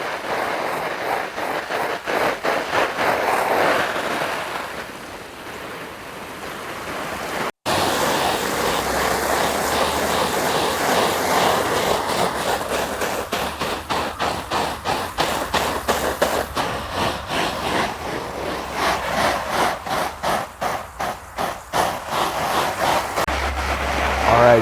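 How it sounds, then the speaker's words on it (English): A strong water jet pelts a backpacking tent, making a continuous hissing, drumming spray on the fabric with rapid pulsing patter, briefly cut off once and resumed; someone talks over it at times. "we're now hitting it with the jet, just pelting this tent with water"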